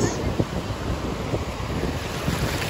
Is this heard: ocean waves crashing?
yes